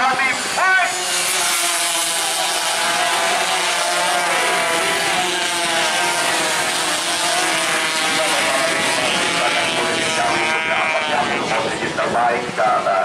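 Several 2-stroke 125cc standard underbone motorcycles race in an open class event, their high, buzzy engines layered into a continuous loud drone of rising and falling pitches, with a commentator talking over them throughout.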